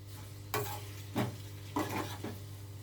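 Hair-oil ingredients cook in oil with a low hum underneath, and three or four soft bursts of stirring and sizzling come at roughly even intervals.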